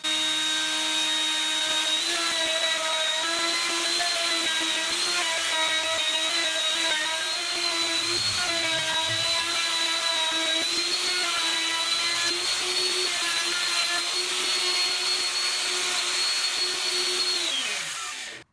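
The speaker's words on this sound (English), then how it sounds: "using a straight bit in the router to make the recess" A router fitted with a straight bit cuts a recess into melamine, giving a loud, steady high-pitched whine that holds for about seventeen seconds and then spins down.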